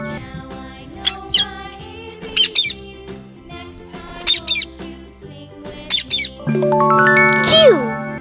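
Cartoon parrot squawking in a children's alphabet phonics song, with bright repeated squawks and chirps set over a steady music backing, then a final louder rising squawk near the end.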